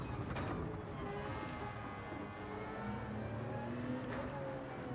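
The engine of the GR Supra Racing Concept in Gran Turismo 7 drones steadily at high revs along a straight, a continuous loud racing tone with slight pitch shifts and no talk.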